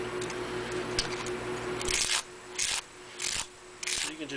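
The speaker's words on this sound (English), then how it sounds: "So you whittle it down until it fits inside the car." Blade scraping across a baled scrap load for an HO Athearn 52-foot gondola, in several short raspy bursts spaced about half a second apart after a stretch of quieter rubbing, close and moderately loud.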